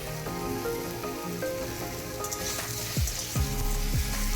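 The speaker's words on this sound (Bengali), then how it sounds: "মিনিট তিন চার সময় ধরে আলুটাকে আমি ফ্রাই করে নেব এরপর আমি কুমড়োর টুকরোগুলোকেও অ্যাড করলাম" Potatoes and pumpkin pieces frying in oil for a bitter gourd curry, a steady close sizzle with crackling spatters throughout and a few louder stirring scrapes near the end.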